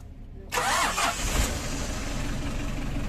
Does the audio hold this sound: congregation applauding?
no